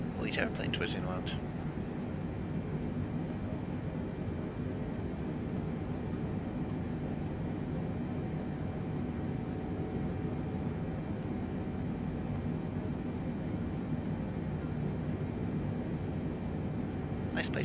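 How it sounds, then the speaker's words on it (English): In Microsoft Flight Simulator 2020, a Boeing 747-8 cargo aircraft fills the scene with a steady, loud roar of jet engine noise, continuous and unbroken, with a brief burst of higher sound at the start. "All these airplanes whizzing around."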